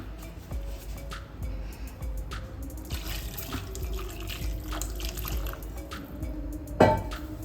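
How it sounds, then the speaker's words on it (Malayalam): Water runs and splashes steadily into a pot of half-cooked chicken curry, a continuous pouring wash with a brief louder splash near the end. "ഇതിനകത്ത് കുറച്ച് വെള്ളവും കൂടി ഒഴിക്കേണ്ടി വരും"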